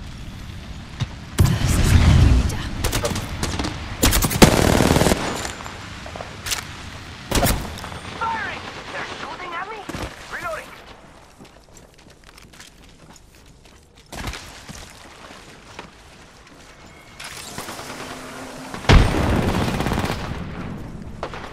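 Gunfire in the video game Apex Legends, loud bursts and cracks at irregular intervals with quieter stretches between them, mixed with other game effects.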